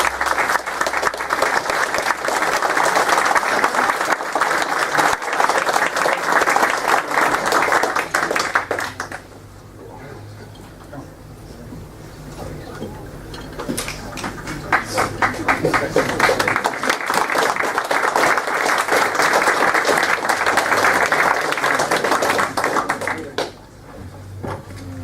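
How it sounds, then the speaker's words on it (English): Audience applauding a rare panel at Revival 2018, loud sustained clapping that dips briefly about a third of the way in, swells again for a long stretch, then fades out near the end. "we have a big round of applause for our rare panellists"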